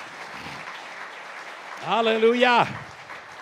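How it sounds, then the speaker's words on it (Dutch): Church congregation applauding during an evangelical evening worship service, a steady wash of clapping with a single voice shouting out loudly over it partway through. "Geef deze drie kantjes nog eens een applaus."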